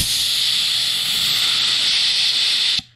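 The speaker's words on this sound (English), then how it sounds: "we'll actually take the air compressor and give them a little blowy there" Compressed air blasts steadily from an air compressor nozzle, clearing debris off the ignition points of a vintage lawn mower, a loud continuous hiss that cuts off abruptly near the end.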